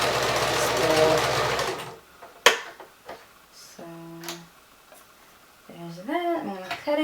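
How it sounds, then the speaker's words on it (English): A sewing machine winds thread onto its bobbin with a loud, steady motor whir for about two seconds, then stops; afterward a few soft clicks and handling sounds are heard while a person talks. "it looks like it needs a little bit more thread, so I'm going to refill my bobbin"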